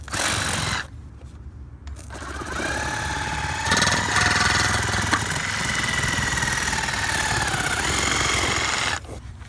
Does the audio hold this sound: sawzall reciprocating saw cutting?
yes